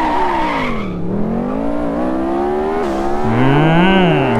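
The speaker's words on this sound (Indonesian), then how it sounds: "Suara knalpotnya bisa kalian dengar di sini ya." A racing car engine in an Android open-world racing game revs and shifts continuously with loud exhaust, punctuated by tire screeches as it skids through turns.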